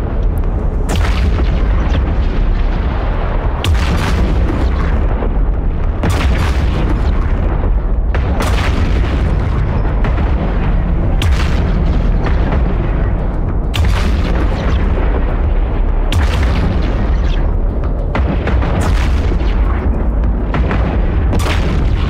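Ship weapons firing and explosions in EVE Online, a steady loud rumble punctuated by regular booming blasts every couple of seconds, with no voices.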